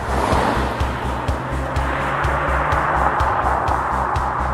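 A 2023 Mazda CX-30 GT Turbo on the move, its engine giving a steady low drone over loud road and wind rush, with regular rhythmic thumps from the tires crossing road joints and no talking.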